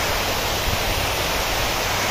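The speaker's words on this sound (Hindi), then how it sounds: "ये देखिए कूलिंग टावर से एकदम झरना जैसे पानी गिर रहा" Water cascades from an industrial cooling tower like a waterfall, a loud, dense, unbroken rushing roar that holds steady throughout with no voices.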